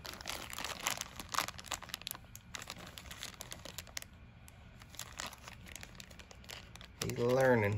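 A plastic blind bag toy package being crinkled and torn open by hand, with soft, irregular rustling and crackling bursts and quiet stretches, then a voice speaking near the end.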